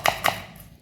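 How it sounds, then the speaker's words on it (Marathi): A knife finely chopping onions for egg bhurji gives two crisp, close strokes on a board in quick succession, then the sound trails off into quiet. "भुर्जीसाठी आपल्याला अगदी बारीक चिरायचे कांदे।"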